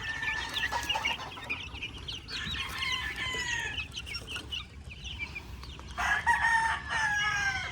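A brood stag rooster crows repeatedly alongside other fowl clucking and calling nearby, with loud overlapping crows near the start, the middle and the end.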